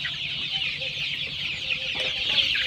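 Tiger breed chickens, chicks around 20 days old, chirp and cluck steadily on a farm, a continuous close chorus of high peeping with no talk over it.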